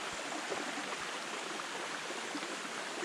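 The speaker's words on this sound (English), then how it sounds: "There's the sluice coming down through and over the little small waterfall." Water from a sluice spills steadily over a small waterfall in the Ozarks, a continuous broadband rush that stays even and fairly close throughout, with no voices.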